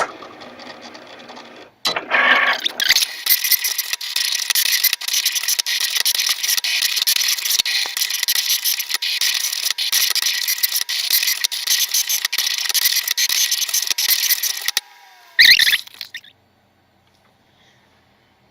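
A Cricut cutting machine cuts out a foil project, starting after a beep, then whirring and buzzing steadily with rapid clicks of the moving carriage for about thirteen seconds before slowing, stopping and falling silent.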